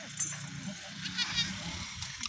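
Goats on a farm, including kids about three months old, bleating faintly amid rustling and handling noise, with someone talking nearby.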